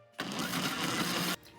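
A kitchen blender whirs on a panettone dough mix of eggs, butter, sugar, dry yeast and warm water. One steady, close motor hum starts abruptly, holds for just over a second and cuts off sharply, with no voices.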